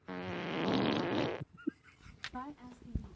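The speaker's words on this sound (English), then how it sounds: "Alexa, play a wet fart." Wet fart sound effect from an Alexa smart speaker, a long, loud, sputtering blast of about a second and a half, followed by people talking.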